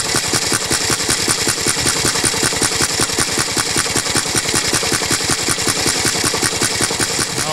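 A homebrew Hvid engine runs with a loud, close, rapid and evenly spaced chugging beat, each firing pulse distinct, holding a constant rhythm throughout.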